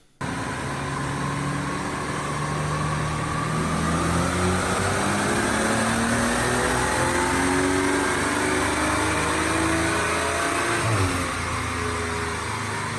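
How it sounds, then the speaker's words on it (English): A BMW M235i engine revs steadily and loudly on a dyno, its pitch climbing through a long sustained pull before dropping off near the end. "let's head to the House of Boost and get this baby strapped to the dyno."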